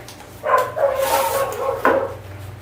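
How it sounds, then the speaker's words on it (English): A few dog barks, somewhat distant and muffled, rise over a steady low hum, with short pauses between them. "I hear Diesel out there barking."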